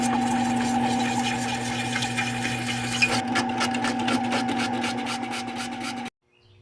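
An Irwin hole saw bites through material with a steady, humming grind and a rasping edge that grows choppier near the end before cutting off abruptly.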